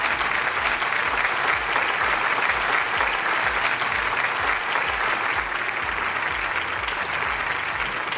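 Sustained applause from an audience in a school hall honoring a teacher's 38 years of service, dense and steady clapping throughout with no voices over it.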